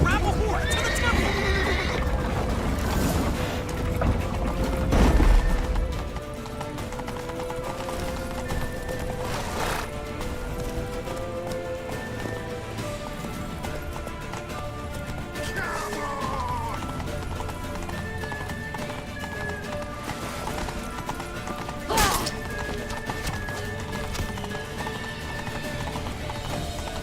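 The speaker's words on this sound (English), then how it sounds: "Grab a horse to the temple!" Horse hooves clatter in a quick galloping rhythm with occasional neighs, under shouted voices and tense game music throughout, from the video game The Witcher 3.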